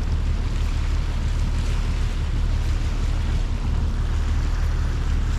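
A sailboat with mainsail raised motors through calm, nearly flat water, steady low engine drone blended with continuous water rush and soft wind noise.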